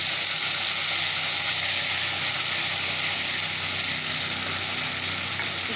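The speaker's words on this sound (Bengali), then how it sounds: "একটু কালো জিরে আর একটু কাঁচা লঙ্কা ফোড়নে দিয়ে দিলাম" Black cumin seeds and green chillies sizzle in hot oil after fish has been fried, a steady, bright, even hiss that fills the moment without pause and with no talk over it.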